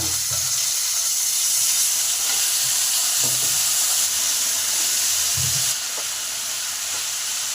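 Washed potatoes dropped into hot oil with fried bay leaves and spices, giving a loud, continuous hiss and sizzle close by, with a few soft stirring knocks and no talk.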